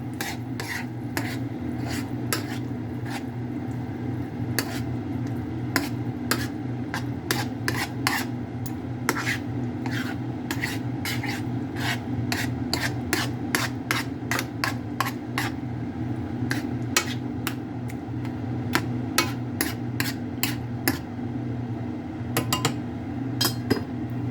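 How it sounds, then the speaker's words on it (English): Creamy jalapeno artichoke cheddar sauce being stirred in a pot over low heat, a steady close scraping and rubbing with frequent small clinks of the utensil against the pot, continuing throughout with no talk. "Make sure you stir it up real good"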